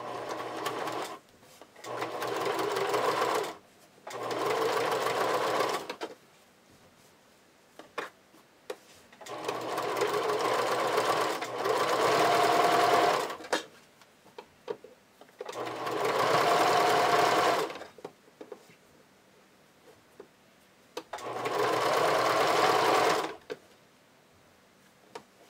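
A domestic sewing machine runs a zigzag stitch along turned-under fabric edges for elastic-waisted Grace panties, in five or six steady bursts of whirring a few seconds each, separated by quiet pauses.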